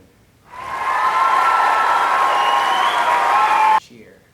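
Studio crowd bursts into loud, sustained applause and cheering, a dense wall of clapping and whoops that swells in quickly, holds steady for about three seconds, then cuts off abruptly.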